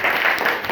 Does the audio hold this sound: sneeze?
no